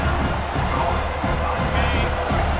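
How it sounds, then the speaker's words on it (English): A stadium crowd in EA Sports College Football 26 roars steadily behind the defense on third down, a dense continuous wall of cheering heard briefly. "Decibels rising as the crowd gets behind this defense on 3rd down."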